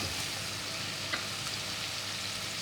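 Whole spices with coriander seeds fry steadily in a hot pan, giving a continuous close sizzle with a faint scrape or two and no talking.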